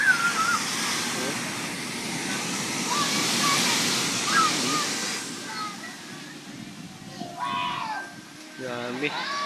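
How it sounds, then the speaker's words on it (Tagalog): Rough, stormy sea surf roars steadily at Madjao Beach Resort on Samal, a broad wash of crashing waves with people talking over it toward the end. "Grabe yung wave dyan, no?"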